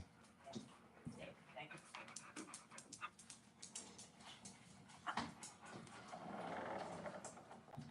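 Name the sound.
dog panting and whimpering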